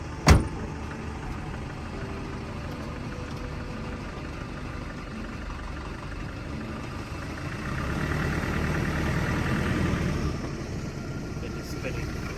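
A car bogged on rural property, its engine idling then revving as the wheels spin, a steady moderate hum that swells toward the end, with people talking over it.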